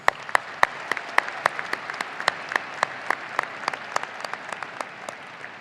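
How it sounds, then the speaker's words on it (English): Sustained applause from a crowd at a university commencement ceremony, dense steady clapping with a few sharper claps standing out, no voices. "One more round of applause."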